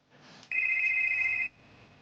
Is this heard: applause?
no